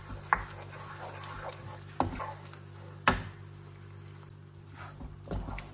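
Ground coriander and khmeli suneli stirred into a frying base for beef kharcho soup: a soft background sizzle with a few sharp spoon knocks against the pan and gentle scraping strokes.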